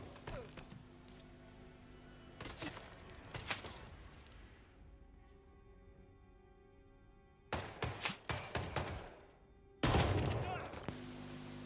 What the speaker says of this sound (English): This gameplay also has an interesting bug where the shotgun firing went into first person.